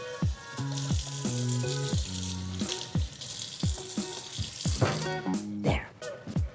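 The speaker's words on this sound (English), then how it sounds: "And I rinse it clean of all the seeds." Water runs from a kitchen tap as a seeded pepper is rinsed clean, a steady hissing stream with faint tonal background sounds and brief knocks toward the end.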